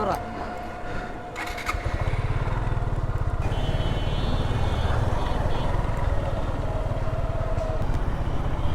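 A Suzuki Gixxer FI ABS 155cc motorcycle sets off, its engine settling into a loud, steady running drone close by after a brief rougher start, with a voice talking over the first few seconds.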